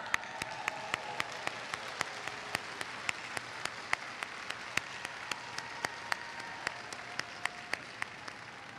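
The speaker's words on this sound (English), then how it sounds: "We'd like to give you a round of applause." Commencement ceremony audience applause, a steady wash of clapping from a large crowd, with a sharp, evenly spaced single clap standing out close by throughout.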